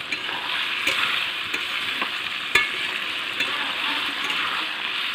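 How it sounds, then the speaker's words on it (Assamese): Duck meat fries in a pan with a loud, continuous sizzle, and scattered sharp clicks and scrapes come from the spoon stirring it. "এতিয়া মই প্ৰায় 20 মিনিটমান আকৌ লৰাই থাকিম"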